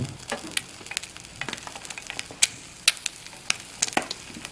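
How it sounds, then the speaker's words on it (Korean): Salt sprinkled into a small camping frying pan crackles over the soft sizzle of frying food, a scattered run of sharp little ticks and pops, close and fairly quiet, with no talking. "그 다음에 소금도 좀 뿌려야 되겠죠"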